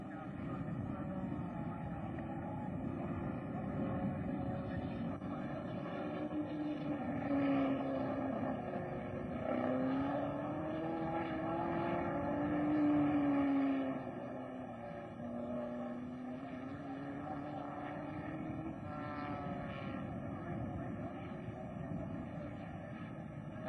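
Racing cars at the 1963 Australian Grand Prix, with Graham Hill among the field still circulating. A steady, distant engine drone with a rising and falling pitch holds throughout beneath faint commentary.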